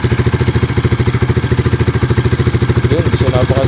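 Rusi Classic 250i 250cc motorcycle idling close by with a steady, fast, even thumping pulse. A voice breaks in briefly near the end.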